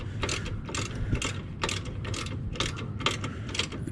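A ratcheting wrench cranks down a bolt on a motorcycle bag guard mount on a 2019 Harley-Davidson Road Glide Special, producing quick, evenly spaced ratchet clicks in a steady back-and-forth rhythm, close and clear.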